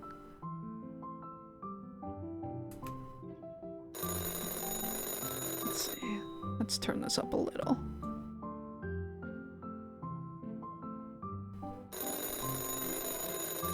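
A telephone rings from a wall in the Chocolate Factory Simulator video game, its bell-like alarm sounding in repeated bursts over game music while a person talks.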